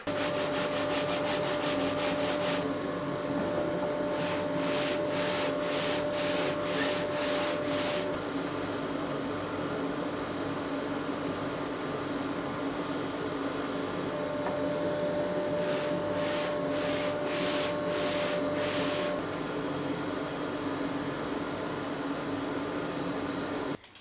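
Hand sanding on a piece of wood with sandpaper stuck by double-sided tape to a block, a steady continuous rasping scrape held close for the whole stretch, with bursts of rapid rhythmic ticking over it at times.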